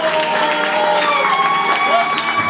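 A church congregation cheers and claps loudly in a steady, dense roar of voices and applause that holds evenly throughout.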